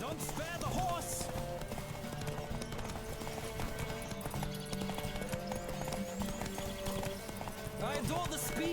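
Rapid clip-clopping hooves of a galloping horse in The Witcher 3 with occasional whinnies, over a busy background, while voices talk.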